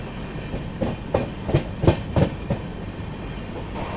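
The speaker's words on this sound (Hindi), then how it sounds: "निकल चुकी अपनी ट्रेन कानपुर सेंट्रल से" The 22437 Prayagraj–Anand Vihar Humsafar Express runs on rails near Kanpur Central, its wheels beating a rhythmic clickety-clack of evenly spaced thumps over a steady rolling rumble, loudest mid-clip and then fading.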